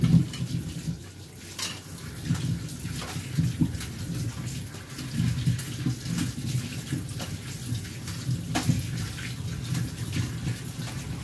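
Potatoes washed under a running tap, a steady close splash of flowing water with irregular knocks and thuds of handling, continuous for the whole stretch with no talking.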